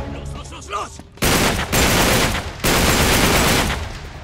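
Video game gunfire from Uncharted: loud, dense bursts of rapid automatic shots fill most of the clip after a quieter opening, with two short breaks between volleys.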